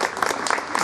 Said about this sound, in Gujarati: જોરદાર તાળીઓ સાથે